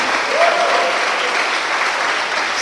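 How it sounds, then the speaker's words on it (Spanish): A church congregation claps loudly for the Lord, a steady dense wash of applause that fills the room without a break. "den un fuerte aplauso al Señor con fruto de labios"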